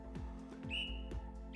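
Two short, bright whistle tones sound as an effect in an exercise routine for sciatica, each a clear sustained pitch over a low, steady tonal hum.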